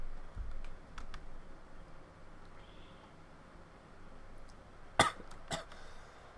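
Two quick coughs land close together near the end over faint room noise and scattered clicks, with softer throat sounds earlier.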